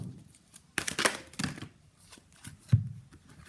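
A single tarot card pulled from a deck: a few soft papery slides and flicks in short bursts, close and quiet, with no talking.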